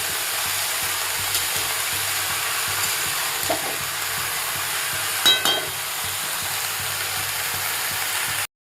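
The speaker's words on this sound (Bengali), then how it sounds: "সমস্ত সবজি আমি দিয়ে দিয়েছি তেলের মধ্যে। আর এগুলোকে একটু ভেজে নিচ্ছি।" Mixed vegetables fry steadily in hot oil, a constant close sizzle with faint scraping stirs through the pan and no talking.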